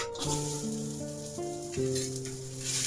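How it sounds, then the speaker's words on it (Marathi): Onion frying in a pan for Puneri misal pav, a gentle steady sizzle close by with a light stir or two and a faint background tone, no voices. "आता भाजूया कांदा"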